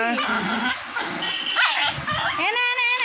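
A dog named Angel whimpers and yips in high, wavering cries while receiving a vaccination. Someone speaks soothingly over the whining.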